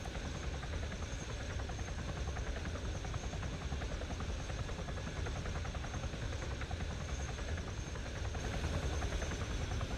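A video game helicopter's rotor and engine drone on steadily and loudly throughout, a continuous buzzing whir with no talk.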